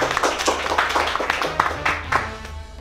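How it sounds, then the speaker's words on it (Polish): A studio audience at a discussion program claps in a short burst of scattered, fairly close hand claps, with a low hum running underneath. "publiczność. Brawa!"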